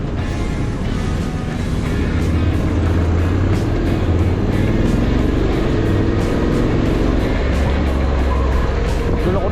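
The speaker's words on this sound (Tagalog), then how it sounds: "daming sasakyan" Dense road traffic in Cavite, with many vehicles passing in a continuous loud roar of engines and tyres and occasional sharper bursts, and no talk over it.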